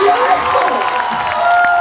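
An audience at a religious Bhagavat Puran gathering breaks into loud applause and cheering, a dense wash of clapping and voices filling the whole brief moment.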